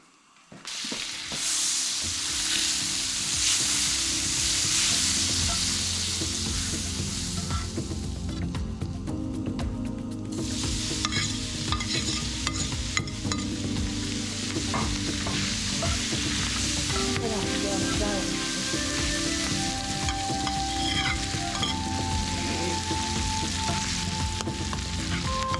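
Chopped sisig frying in butter until crispy, a loud, close, continuous sizzle and hiss with scraping stirs throughout and a brief dip in the spatter partway through, no talking.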